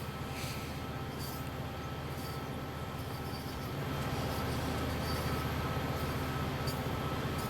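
A train being driven in Train Sim World 3, a low, steady rumble of rolling stock and motors that swells slightly about halfway through, with no voices.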